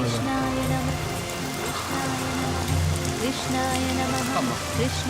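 Rain patters continuously on a surface, with tonal background sounds layered over the steady downpour.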